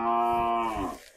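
A single cow's moo close by on a rural Vietnamese farm, one loud, harmonic, drawn-out call lasting about a second and fading at the end, with no talking.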